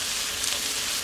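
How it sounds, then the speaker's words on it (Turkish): Eggplant, salt and black pepper being stirred in a hot pan for Turkish bostan kebabı, a brief steady sizzle of frying vegetables, close and with no speech. "Ve tekrar karıştırıyorum böyle."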